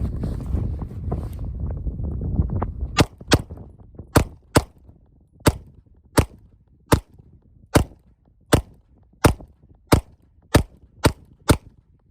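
Sharp, evenly spaced gunshots from a Springfield Prodigy 2011 pistol ring out one after another, about a dozen in a steady rhythm, following a few seconds of gusty wind noise with no talking.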